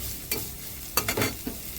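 Onions frying lightly in a pan give a low, steady sizzle, broken by a few sharp scrapes and knocks from stirring.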